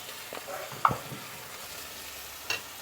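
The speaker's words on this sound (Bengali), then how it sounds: "তো এটাকে হালকা আমি নেড়ে চেড়ে দিয়ে আমি দিয়ে দিচ্ছি কাঁচা হলদিগুলো।" Spices, turmeric powder and red chili powder, sizzle in a pan as they are stirred, a low frying hiss with a couple of sharp scrapes.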